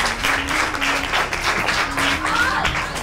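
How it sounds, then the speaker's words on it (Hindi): An audience at a children's quiz show applauds with steady, dense clapping, while a tonal voice or music line runs underneath. "तालियां बजाइए"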